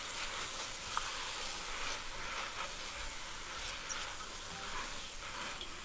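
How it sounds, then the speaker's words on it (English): Cumin seeds sizzle in a pan while being stirred, giving a soft, even hiss with light crackle. It is fairly quiet and continuous, with no voices. "I'm going to put in my cumin seeds, so a teaspoon of those. Okay. So all of that's gone in, and I'm just going to give that a stir"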